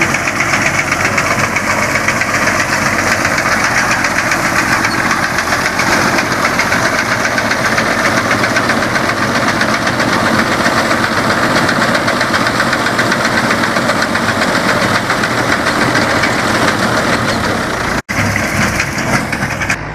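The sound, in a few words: tractor-mounted wheat harvesting machine engine running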